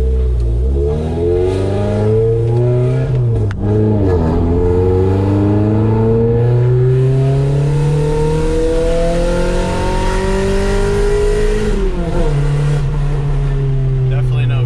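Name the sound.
Honda Civic engine revving, coming on cam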